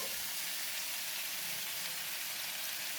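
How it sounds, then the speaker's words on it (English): Minced pork and mixed vegetables stir-fry in a pan with a steady, even sizzle that holds alone at a constant moderate level from start to finish. "stir for another 2 more minutes until minced pork and mixed vegetable are cooked"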